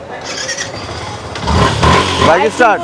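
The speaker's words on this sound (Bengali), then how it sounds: "শেষ বাইক স্টার্ট হয়ে গেছে" Motorcycle engine cranking and catching after its ignition line is bypassed without a key, rising into a close, loud running rumble in the last second or so, with someone talking over it.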